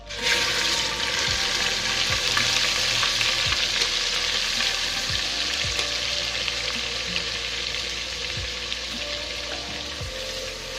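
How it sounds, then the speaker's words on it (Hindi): Onion paste sizzling loudly in hot oil with fried garlic and ginger for a white chickpea curry, a steady dense frying hiss with periodic stirring scrapes, close and continuous with no talking. "अब इसके ऊपर हम प्याज जिसका हमने पेस्ट बना के रखा था वो डाल देते हैं।"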